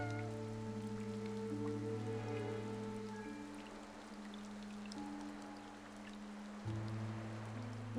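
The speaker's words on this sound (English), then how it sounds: "Nikki, it looks like it's going to rain." Rain patters steadily across surfaces in the video game Infinity Nikki, a soft continuous fall of drops under sustained tonal background music.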